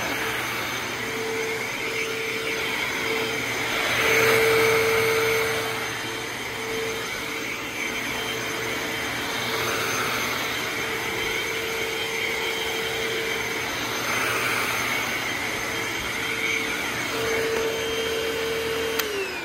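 A Eureka Optima upright vacuum cleaner runs steadily, a continuous whirring hum with a high motor whine, rising and falling slightly in pitch as it moves.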